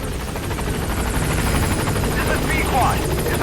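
A support helicopter arrives in the video game Metal Gear Solid 5: The Phantom Pain, its steady rotor thump loud and continuous throughout, with faint game chatter and effects mixed in.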